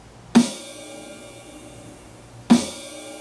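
Two isolated snare drum hits on a drum kit, about two seconds apart, each a sharp crack with a short ringing decay, loud and close with no talking.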